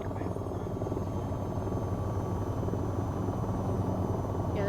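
A helicopter flying in a video game gives a steady, loud rotor drone with a low throbbing pulse that holds without pause for the whole stretch.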